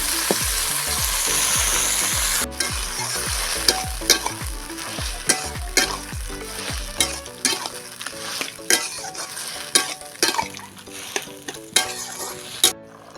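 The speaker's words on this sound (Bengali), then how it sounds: "মশলার মধ্যে দিয়ে দিচ্ছি আলু আর ভালো করে আমি আবার একটু নেড়ে নেবো" Potatoes frying and being stirred into a spice mix in a pan for a vegetable curry, with a steady sizzle and repeated scraping strokes of the spoon that grow more sparse toward the end, with no talking.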